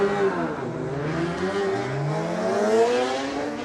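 Road racing motorcycles pulling away at a race start at the Cookstown 100 road races, loud engines revving hard with climbing, overlapping whines as several machines accelerate off the line.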